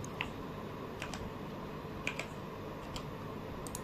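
Keys tapped on a computer keyboard while renaming a file, a handful of light, separate clicks spaced unevenly over a steady background hiss, with no talking.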